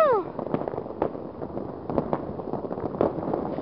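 Closing bursts of a New Year 2010 fireworks display: a brief whistle, then scattered loud bangs and crackles about a second apart over a busy background, with voices faintly mixed in.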